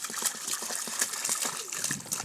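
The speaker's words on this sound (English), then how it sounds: "I'm going to add some 1 liter of water," Water poured into a mixing container while making homemade liquid soap, a steady close trickling and splashing that runs continuously for the whole stretch with no talking.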